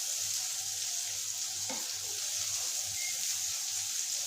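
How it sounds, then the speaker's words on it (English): Mushrooms fry in garlic butter in a pan with a soft, steady sizzle and crackle, fairly quiet and close, with a brief stir scrape partway through. "I grease the pan with garlic butter and then fry the mushrooms until nicely done"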